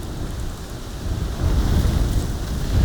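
Strong wind roars outdoors near a bush of brown and orange leaves, a loud, steady rumbling gust that builds toward the end, with no voices.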